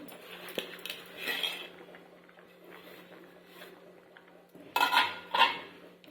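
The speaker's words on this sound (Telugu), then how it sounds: "ఇలా ఇప్పుడు మనం తురిమి పెట్టుకున్న బెల్లాన్ని అయితే ఒక కప్పు వేసుకుందాము." Grated jaggery is tipped from a cup into a pot of paramannam rice pudding, giving soft scraping and clinking of utensils against the vessel, quiet at first and then two louder bursts near the end.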